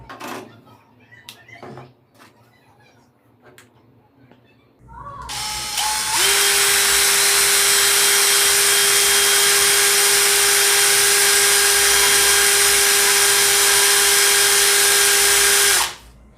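Electric drill running at its second speed setting, starting with a few clicks and handling taps, then spinning up into a steady, loud, high whine that holds for about ten seconds before cutting off.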